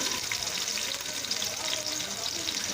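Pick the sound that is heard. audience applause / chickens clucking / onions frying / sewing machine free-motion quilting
onions frying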